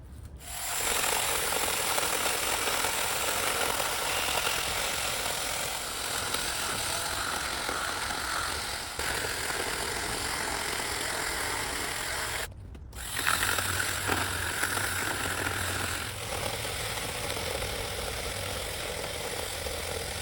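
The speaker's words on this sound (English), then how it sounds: "It's seriously cutting through these tree trunks like a hot knife through butter." A mini chainsaw cuts steadily through backyard tree trunks, its high, buzzing motor running loud and close for a long continuous stretch with one brief cutoff partway through.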